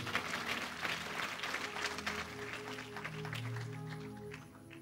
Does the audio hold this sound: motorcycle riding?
no